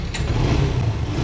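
Engine of a 2018 Suzuki Gixxer motorcycle at a second-hand bike market in Bhopal, a steady low rumble running close and loud through the whole moment with no talk.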